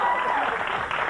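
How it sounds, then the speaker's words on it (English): Late-night talk show studio audience breaks into a short burst of applause, loud and dense, with a voice briefly over the clapping. "More applause in Cleveland, by the way."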